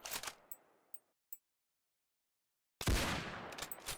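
Hunting rifle shots in the video game Project Hunt, a few sharp cracks spaced apart, then a gap of silence and a heavy loud blast with a long rumbling tail, with no talking.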